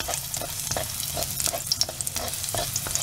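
Dried red chillies roast in a hot pan for a Sivakasi-style masala puffed rice, with cumin and raw peanuts; a steady crackling sizzle runs throughout, broken by scraping stirs and light clinks close up, with no talk.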